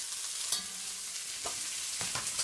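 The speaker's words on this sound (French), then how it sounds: "On va bien le dorer gentiment." Chicken pieces and onion browning gently in a pan give a steady, close sizzle and hiss, broken by a few soft stirring taps.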